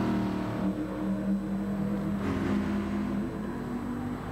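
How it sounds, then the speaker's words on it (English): A Mark 1 Mustang V8 race car engine drones loudly and steadily from close by during a Masters V8 series race, its low rumble holding throughout with a slight swell midway and no talk. "Listen to that Mark 1 Mustang."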